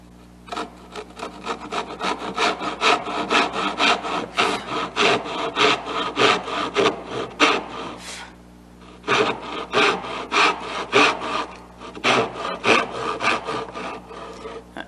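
A hand saw cuts dovetail tails in wood, a close, rhythmic rasping of quick back-and-forth strokes in bursts, pausing briefly before resuming steadily.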